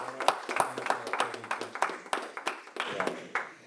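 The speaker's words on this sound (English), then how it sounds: "Please a round of applause for." A small conference audience claps in a brief round of applause, sparse and uneven with distinct individual claps, fading out near the end.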